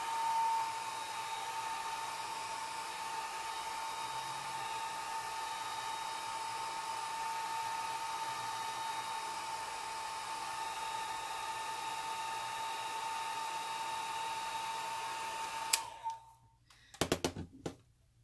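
A Ranger air blower runs in one long, steady, fairly faint whir while drying alcohol ink on a tile, then cuts off near the end and is followed by a few light clicks and knocks.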